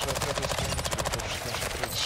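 Rapid automatic gunfire in the video game Call of Duty Warzone 2.0 DMZ: a dense, loud, fast-paced burst of shots that lasts about two seconds.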